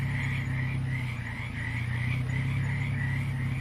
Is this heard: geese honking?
no